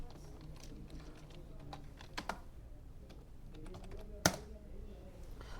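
Keys tapped on a computer keyboard while setting up a Windows kiosk user account, a steady patter of light clicks with a couple of sharper, louder strikes near the end, close and alone.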